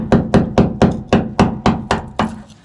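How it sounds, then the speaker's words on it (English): Metal screwdriver tapped about eight times at an even rhythm against a lower plate on a Toyota Tundra, each strike a close, sharp knock that rings and decays quickly. "Take my screwdriver, put it in between this lower plate here, and just tap it."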